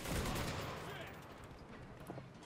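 Pistol gunfire in a war video game, rapid overlapping shots in a loud burst at first that fade to scattered cracks, with players talking over it.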